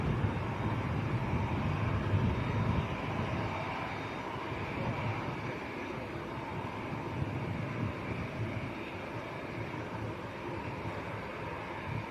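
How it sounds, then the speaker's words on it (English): Jet airliner in Junyao Airlines livery taxiing at Manchester Airport, a steady broad engine rumble and roar that holds constant at moderate distance with outdoor wind, no talk. "Junyao has just started to taxi out as well"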